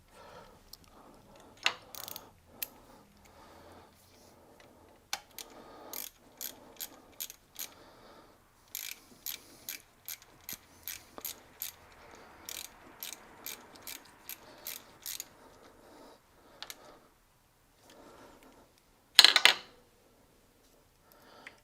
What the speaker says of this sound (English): Obviously tighten up the nut.